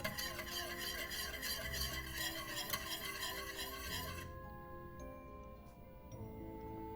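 A whisk stirs a thickening mixture in a pot just taken off the heat, making a quick, close, scraping rhythm that fades away partway through, leaving a faint background hum.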